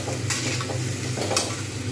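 A pan of spices loosened with a splash of water and ginger paste is stirred, giving a steady low sizzle with soft scraping strokes and a couple of brighter clinks, close and continuous, with no voices.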